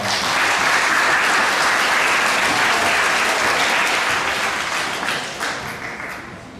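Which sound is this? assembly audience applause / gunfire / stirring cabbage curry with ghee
assembly audience applause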